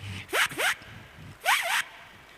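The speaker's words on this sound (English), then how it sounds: "do you know the zipper sound?" A zipper is pulled three times, two quick zips followed by a slightly longer one, crisp and close.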